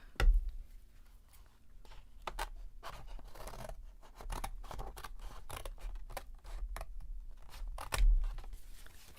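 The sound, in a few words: scissors cutting a square from silver paper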